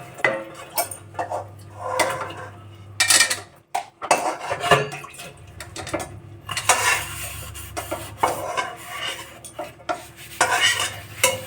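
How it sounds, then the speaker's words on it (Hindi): Dishes being washed by hand in a home kitchen, with close, loud clinks and clatters of pots, plates and cutlery coming in irregular bursts over a low steady hum of running water. "बेटा बर्तन धो रहा है अभी"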